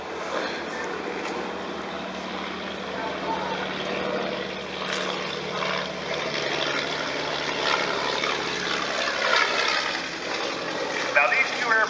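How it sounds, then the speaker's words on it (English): A Fokker D7 World War I biplane makes a flyby at an old aerodrome, its propeller engine droning and growing louder toward the end, with a voice speaking over it. "And a nice flyby of the D7."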